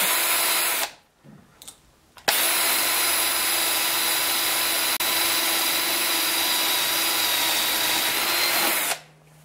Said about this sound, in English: Now I'm going to take my dowel here and I'm going to drill a hole through the center.